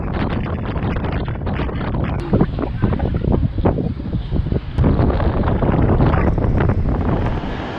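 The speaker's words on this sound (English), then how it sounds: "It is really getting windy out there now." Strong wind blows outdoors in northern England during a weather warning, buffeting the microphone with loud, continuous gusty roaring that surges and eases.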